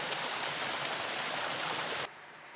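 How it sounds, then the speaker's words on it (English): Clear water spills over a dam wall into a pool on a rugged bush track, a steady rushing wash that stops abruptly near the end. "So it's got nice clear water flowing into it."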